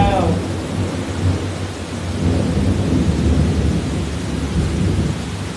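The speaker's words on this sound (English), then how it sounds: "I mean, I love the rain." Heavy rain pours steadily during a thunderstorm, a dense roar with low thunder rumbling through it, loud and continuous with no pauses.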